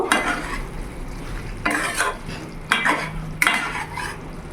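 Curry of pointed gourd being stirred and mixed in a pan, with a low sizzle beneath repeated scraping strokes of a spoon against metal, three or four sharper scrapes standing out.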